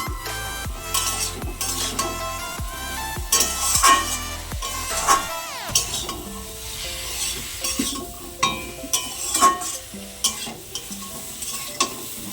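Spices with potato and greens stir-fried in a pan for a fish curry, loud continuous sizzling with rhythmic metal spatula scrapes and clinks against the pan, no talking.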